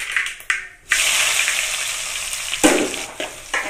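Onion, ginger, green chili and curry leaves sizzle and fry in hot oil while sardines are being prepared, a steady close hiss that swells after a brief quiet moment, with stirring bursts near the end and no talk.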